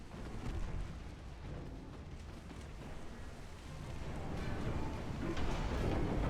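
Naval gunfire from warships trading shots at long range in Ultimate Admiral Dreadnoughts, a dense, continuous rumble of overlapping booms and blasts that swells slightly toward the end.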